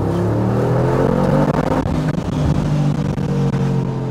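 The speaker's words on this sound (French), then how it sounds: "c'est une voiture qui fait plutôt pas mal de bruit avec son V8 biturbo de 4 litres qui fait 585 chevaux" A 2023 Mercedes G63 AMG with a 585-horsepower 4-litre biturbo V8, accelerating on a road near Marbella: a loud, close, continuous roar with rising engine pitch and brief dips between gears, no speech.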